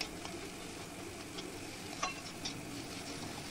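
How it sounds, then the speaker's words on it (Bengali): Boiled taro root being stirred in hot oil in a pan: a soft, continuous sizzle with faint scraping strokes of a spoon, quiet and close, without speech. "তেলের মধ্যে ভালো করে কষিয়ে নিতে হবে।"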